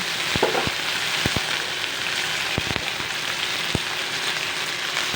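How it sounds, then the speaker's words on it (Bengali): Okra sizzles and fries steadily in a kadai for a Bengali mustard okra dish, a constant hiss broken by a few sharp clicks and taps, with no voices. "এবার আমি একটু একটু করে ভেন্ডিগুলো কড়াইয়ের মধ্যে অ্যাড করে দেবো"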